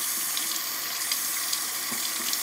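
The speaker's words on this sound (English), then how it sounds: "Rinse your hand off" Water runs from a sink tap while a hand is rinsed under it, a steady close hiss with small splashes, alone throughout.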